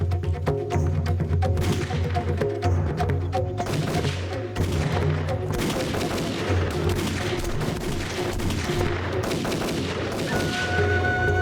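Gunfire fills a movie scene of a police attack with dense, loud volleys and a rapid mix of bangs and booms that goes on without a break.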